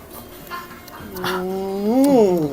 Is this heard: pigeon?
no